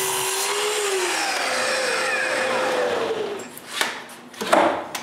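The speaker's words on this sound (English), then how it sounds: "Now I set my miter saw at the right angle and tilt the blade at 10 degrees before" A miter saw with its blade tilted winds down from a high whine after cutting plywood, then gives a few short knocks and handling clatters nearby.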